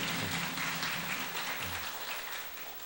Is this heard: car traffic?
no